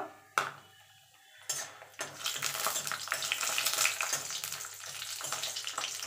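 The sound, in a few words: frying dried lentil dumplings (bori) in hot oil in a wok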